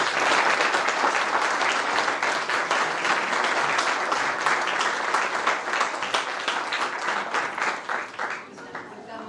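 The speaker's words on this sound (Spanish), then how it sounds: "Lo recibimos nuevamente con un fuerte aplauso." Loud, dense audience applause welcoming a guest at a school anniversary talk, many hands clapping steadily for several seconds before thinning out toward the end.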